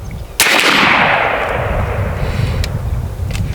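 A single loud, close blast from a 12 gauge AEA Zeus air shotgun firing Civil War style chain shot, followed by a long fading echo rolling across an outdoor range.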